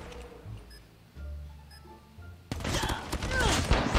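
Gunfire in the mobile shooter game Call of Duty Mobile bursts in partway through as a dense, rapid volley of shots over game ambience, following a quieter stretch with faint in-game sounds.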